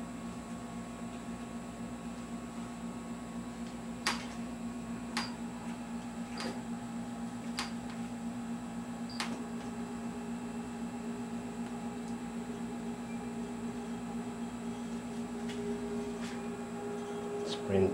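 A printer runs steadily with a constant mechanical hum and drone, broken by a few soft clicks and ticks spread through the run, with no talking.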